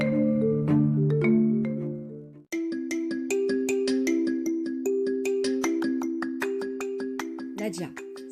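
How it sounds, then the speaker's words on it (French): A mobile phone ringtone for an incoming call plays a bright, repeating melodic tune of chiming notes, loud and close, after a brief stretch of other music at the start. "elle reçoit un coup de fil de son amie Nadia."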